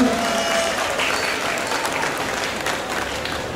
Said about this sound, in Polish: Dzięki brawa do pani Bronisławy